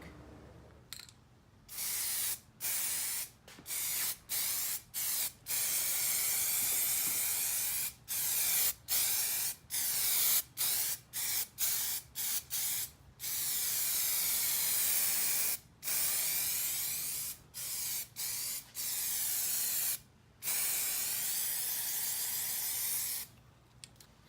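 An aerosol can spraying adhesion promoter onto a plastic Jeep Wrangler grill, heard as long bursts of loud, close hissing spray broken by short pauses, repeated many times with no voice.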